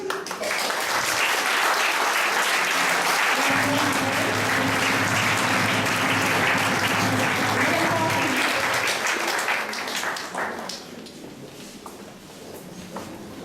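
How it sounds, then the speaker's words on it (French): Applause at a lycée prize-giving ceremony, a full room clapping loudly and steadily for about ten seconds before thinning out into scattered claps and fading near the end. "Merci à vous de venir, que l'on puisse vous remercier, vous applaudir."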